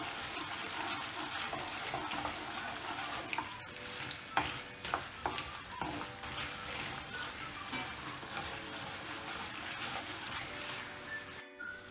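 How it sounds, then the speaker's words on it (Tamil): Urad dal and chana dal frying in oil, a steady close crackling sizzle that runs throughout, with a few sharper pops and clicks of stirring and pan contact partway through; no voices. "இது நல்லா இந்த எண்ணெயில ஃப்ரை பண்ணிடலாம்"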